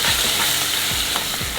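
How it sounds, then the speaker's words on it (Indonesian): Seblak spice paste stir-fried in hot oil gives a steady close sizzle, with a spatula scraping the pan in a few short strokes over the continuous frying hiss. "Kita tumis bumbunya."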